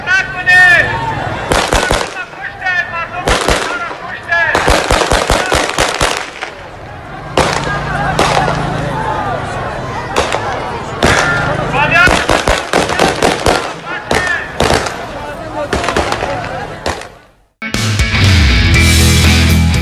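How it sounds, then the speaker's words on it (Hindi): Gunfire at Kabul airport during a chaotic crowd scene, with many loud sharp shots in rapid irregular bursts, some close and cracking, separated by short gaps and mixed with crowd noise and voices. "एयरपोर्ट पर फायरिंग की आवाज साफ सुनाई दे रही है और अंधाधुंध फायरिंग हो रही है।"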